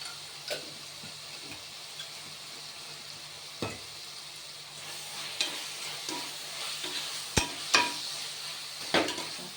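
Spiced masala for paneer biryani with turmeric sizzles steadily in a pan while a spoon stirs it, giving a soft continuous fry broken by sharp scrapes and taps of the utensil, close and moderately quiet with no talk.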